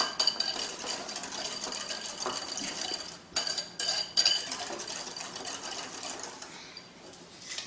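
Eggs and sugar are beaten together for a cake batter, a steady whirring mix with rattling against the bowl and a few brief pauses, heard close with no talking.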